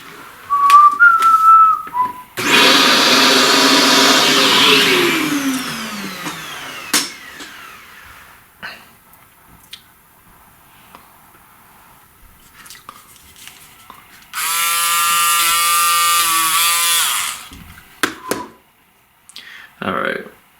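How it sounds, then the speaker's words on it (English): A vacuum cleaner sucks up charcoal dust from a bear drawing in two loud, close bursts, the first a few seconds of rough broadband roar and the later one a steadier whine, with quiet handling sounds between. "let's vacuum some of this"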